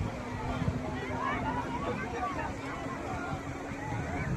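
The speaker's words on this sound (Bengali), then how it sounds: "দেখো স্পিড বোটটা চলে যাচ্ছে দূরে একদম" A speedboat moves off across open water, a steady low engine drone with a faint constant hum, wind and wave wash mixed in, and a voice talking over it throughout.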